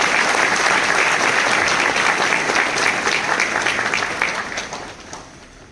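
Sustained applause from an audience at a model teachers' award ceremony, with an education minister present, for the award-winning teachers: dense, steady clapping from a crowd that gradually thins and fades over the last two seconds.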